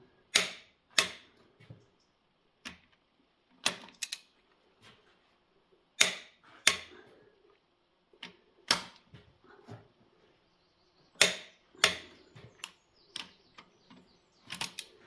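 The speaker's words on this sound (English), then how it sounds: "Okay, so we're torquing up now." A torque wrench clicks sharply while bolts are tightened on a Massey 780 Special combine, with crisp single and double clicks spaced irregularly against a quiet background.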